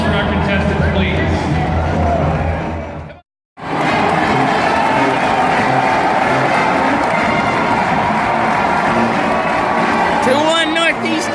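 Large arena crowd at a college hockey semifinal at TD Garden, a steady dense roar of applause and cheering that fills the space, with a brief cut to silence before the noise resumes at full level.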